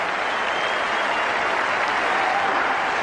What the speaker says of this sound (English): And he'll get a tremendous ovation.